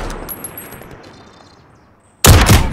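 A sniper rifle fires once in the Call of Duty Warzone video game. A quiet stretch of game ambience with faint tones leads into a sudden loud, sharp blast near the end.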